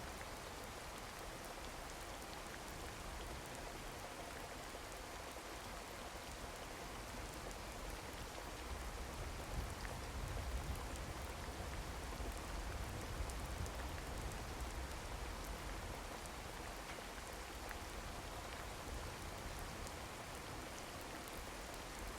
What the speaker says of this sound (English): There's already heavy rain.